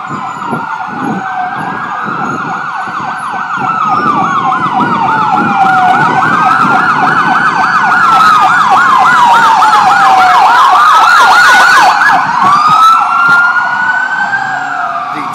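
Multiple loud sirens from New York City fire trucks, police cruisers and ambulances wail and yelp at once, overlapping rising and falling tones that swell closer and stay intense throughout.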